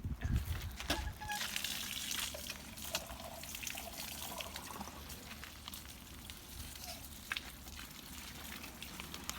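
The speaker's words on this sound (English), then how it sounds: "I'm going to continue to water these with the rose fertilizer." Water pours steadily from a can onto hydrangeas with rose fertilizer mixed in, a soft continuous trickle and splash at the base of the plants, faint and alone.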